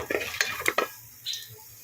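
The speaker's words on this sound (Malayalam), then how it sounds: "ഞാനിതൊന്ന് വറുക്കുവാണ് കേട്ടോ" Close-up frying of raisins in a hot pan: a few quick metallic scrapes and clinks over a soft sizzle that fades to a quiet hiss.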